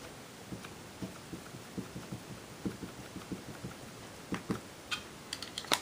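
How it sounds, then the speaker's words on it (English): Soft, quiet dabbing taps as a stamp is pressed repeatedly onto a Fiskars pad inked with Versamark, a steady run of light muffled thumps that grow slightly crisper near the end. "I'm going to grab my Fiskars stamp pad here and ink that up with some Versamark"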